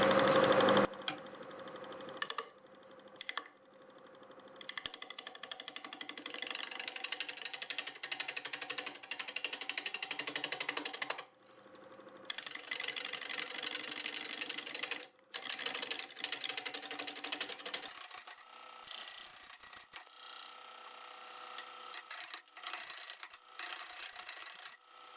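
Firewood blank turning on a lathe at 750 RPM under a 5/8 bowl gouge, a steady loud rasping scrape that runs on for long stretches, broken by brief pauses as the tool lifts off the spinning wood.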